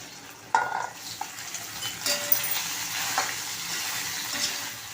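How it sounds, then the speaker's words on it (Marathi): Taro root and potato pieces sautéing in hot oil in a pan, a steady crackling sizzle broken by a few scraping stirs and light clinks of a utensil against the pan. "यामध्ये हे अळूकंदा आणि बटाटा आपल्याला थोडेसे परतून घ्यायचे"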